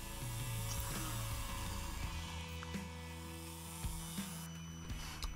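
A small drill with a 1.5mm bit boring pilot holes through the posts of a Hot Wheels Deora model car, giving a steady whine that drops in pitch partway through, close and without speech.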